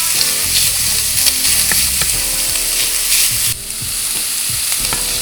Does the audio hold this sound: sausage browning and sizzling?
yes